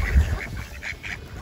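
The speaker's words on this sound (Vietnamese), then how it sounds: "Mấy con vịt trời này nó bay dữ lắm." Wild ducks in a snowy, frozen landscape at minus five degrees quack in a quick run of nasal calls, close and fairly loud against a quiet wintry background.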